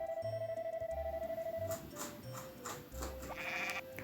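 Sheep in the Harvest Moon video game bleat in short, repeated low calls over steady background game music with chiming tones, fairly close and moderately loud.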